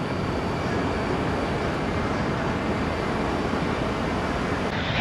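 Delta airliner, an Airbus-type jet, on its takeoff roll from runway 19 right at Tampa, producing a steady, loud broadband jet roar that holds constant throughout with no talk.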